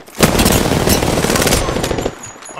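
Rapid automatic gunfire in Apex Legends rattles out in a loud, dense burst lasting about two seconds, then cuts off, with no voices over it.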